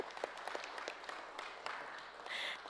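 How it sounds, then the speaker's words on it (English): Faint applause from a small audience at a certificate presentation ceremony, scattered individual claps pattering at low level in a room, thinning and then swelling slightly near the end. "Please give him a round of applause."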